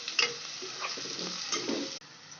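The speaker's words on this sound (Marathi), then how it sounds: "फोडणीला तेल टाकलं, मोहरी टाकली, जिरं टाकलं, लसूण, कांदा आणि जराशी कोथिंबीर पण फोडणीतच." Mustard seeds, cumin, garlic, onion and a little coriander crackle and sizzle in hot oil for an okra dish, with quick ticking pops and a stirring scrape, fairly quiet and brief, no voices.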